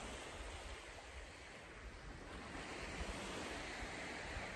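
Sea waves washing onto the shore of a coastal county, a steady broadband surf roar close to the microphone with some wind buffeting and no voices.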